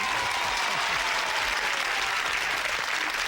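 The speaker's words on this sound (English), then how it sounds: "all those ladies out there in the audience are cheering you on" Studio audience at a game show applauding and cheering, a dense, steady wash of clapping that fills the whole moment without any talk over it.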